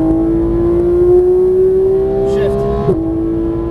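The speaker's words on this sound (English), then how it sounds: "Back on throttle." A Porsche GT3 engine pulls hard under throttle on a race track, its loud steady tone climbing in pitch before a brief break near the end, with a voice talking over it.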